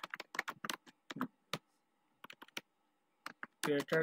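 Rapid clusters of keyboard keystrokes from someone typing code on a computer, with short pauses between bursts and a louder flurry of clicks at the end, fairly close and without talk.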